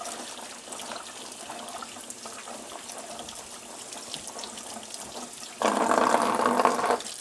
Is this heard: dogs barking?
no